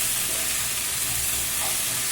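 Okra sautéing in a pan for a bhindi gravy gives a steady, close sizzle with a broad hiss that holds evenly throughout, with no voices over it.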